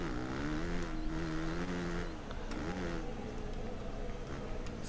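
Motocross motorcycle engine in the MXGP PRO racing game, revving steadily and loudly through a corner with rising and falling pitch, continuous for the whole stretch.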